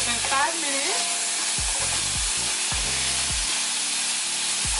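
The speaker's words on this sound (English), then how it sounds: "So I'm gonna leave the steak going for 5 minutes." Steak fries for a homemade hibachi dinner with a loud, constant close sizzle, and scraping spatula strokes sound at intervals over it.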